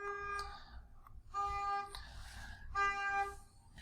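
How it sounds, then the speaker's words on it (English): Three sustained horn honks sound at a moderate distance, separated by short gaps, over low rumbling background noise. "now that honking sound has stopped"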